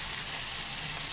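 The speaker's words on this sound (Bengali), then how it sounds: "কালো জিরে ফোড়ন আর আলু" Potatoes frying in a pan with nigella seeds tempered in the oil and onions added, a steady close hiss of sizzling fat running unbroken throughout with no talking.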